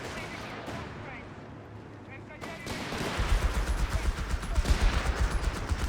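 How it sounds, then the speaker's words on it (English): Artillery barrage in Company of Heroes 3, a desert-war match between the Afrika Korps and British forces: a run of heavy booming impacts builds from about three seconds on, loud and rapid, while a voice talks over it. "Khwarzym respond to all this with a bit of artillery."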